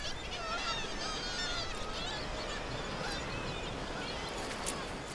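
Young Arctic seabirds call in a dense, continuous chorus of overlapping chirps and honking cries over a steady background roar, a busy colony with many birds calling at once.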